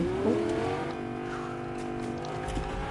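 A car engine in the Fortnite video game revs and roars steadily at close range, with rising engine tones and a brief tire squeal near the start, no talk over it.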